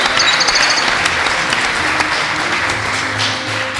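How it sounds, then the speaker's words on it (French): Audience applause at a live podcast game show event, a dense, steady wash of clapping from a crowd filling the room, sustained at even loudness for a few seconds with a faint high whistle early on. "On peut les applaudir"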